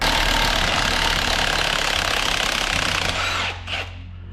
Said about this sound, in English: with our 1 1/8" socket, we can pull our pinion nut